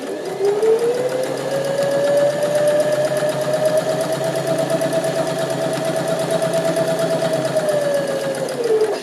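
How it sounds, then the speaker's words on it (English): Sewing machine running steadily on fabric, doing a zigzag seam finish with a reverse back tack, a continuous even whirring hum that rises at the start and holds level throughout, close and fairly loud with no talking. "Here we go into reverse and do a back tack back to the beginning of the fabric, and then we can come forward."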